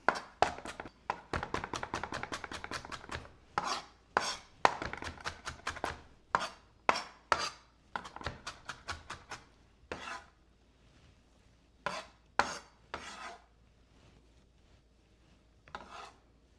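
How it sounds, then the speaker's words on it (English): Rapid knife chops on a cutting board as jalapeños are cut into small pieces for guacamole, a quick run of dense taps followed by slower, spaced single chops, close and clear with no talk. "Chop those up into small little pieces."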